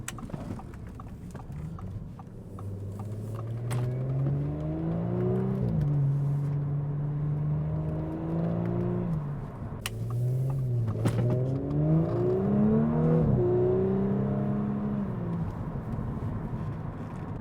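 A 2019 Audi S5 with about 80,000 miles pulls hard under throttle. The engine note climbs in two distinct sweeps, dropping between them as if shifting gears, with a steady road rumble underneath and no talking.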